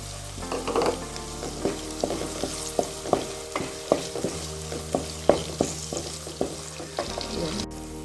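Sliced onions and two slit green chillies fry in a pan for a bread egg masala, with a steady close sizzle broken by regular scraping stirs of a spoon, loud and without any talk.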